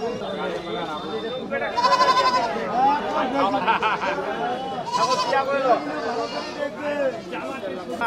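Goats bleat repeatedly at a rural village market on the Bangladesh–India border, several calls overlapping close by, with busy crowd chatter and talk throughout.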